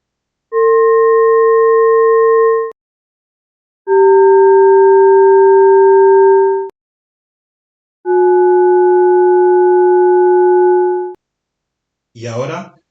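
Ultrasound readings from rock after 10 and 20 salt crystallization cycles, turned into sound: three steady harmonic tones, each about two to three seconds long and separated by short gaps, followed by a brief wavering chirp at the end.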